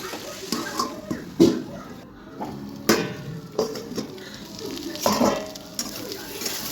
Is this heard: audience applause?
no